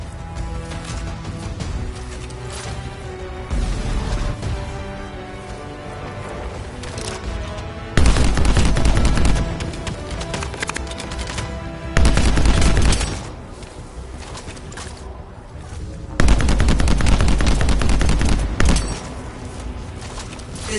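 Turret gunfire in the video game Anthem, with loud rapid bursts of shots and booms repeating every few seconds over a continuous game soundscape, no talk.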